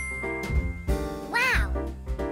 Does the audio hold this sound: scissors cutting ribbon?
no